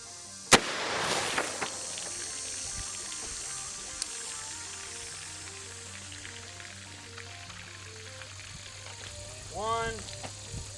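A magazine-fed 12 gauge shotgun fires one sharp, loud blast at an outdoor range, followed by a quieter stretch with small clicks and handling noises.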